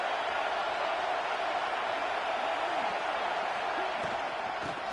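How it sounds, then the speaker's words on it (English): A loud stadium crowd at a football game roars steadily as the fans try to help their defense, a dense continuous wall of cheering and noise with no clear breaks. "Listen to this crowd just shaking the girders of this place"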